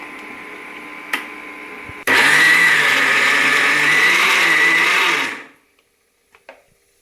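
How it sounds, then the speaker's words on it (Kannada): A kitchen blender grinds coconut with jaggery milk, starting abruptly after a couple of light knocks, holding a loud steady whir for about three seconds, then spinning down, followed by faint clinks. "ಬೆಲ್ಲದ ಹಾಲನ್ನು ಕಾಸ್ಕೊಂಡಿದ್ವಲ್ವ ಅದನ್ನು ಮಿಕ್ಸ್ ಮಾಡ್ತಾ ಈ ಕಾಯಿ ರಸವನ್ನು ರುಬ್ಕೊಳ್ಳೋಣ"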